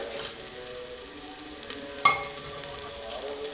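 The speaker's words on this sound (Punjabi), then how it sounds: "ਹੁਣ ਆਪਾਂ ਇਹਦਾ ਮਸਾਲਾ ਚੰਗੀ ਤਰ੍ਹਾਂ ਭੁੰਨ ਲਈਏ" Masala for a white chickpea curry roasting in a pan: a steady close sizzle with faint stirring, and one sharp metallic clink of the spoon on the pan midway.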